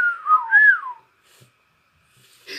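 A short melodic whistle, two rising-and-falling phrases close to the listener, followed by near silence and a faint rustle at the end.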